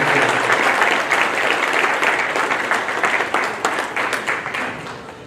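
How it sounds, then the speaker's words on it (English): Audience applause for Hall of Fame inductees at a ceremony, a dense, steady wash of clapping from a large crowd that stays loud throughout and eases slightly near the end. "Let's give them a applause."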